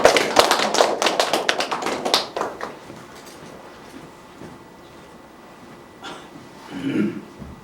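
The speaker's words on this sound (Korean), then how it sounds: "박수로 맞이해 주시니다" Hospital staff at a quality-improvement contest clap to welcome a presenter, a burst of close crisp handclaps that thins out after about two seconds, followed by quiet room noise and a faint breath or rustle.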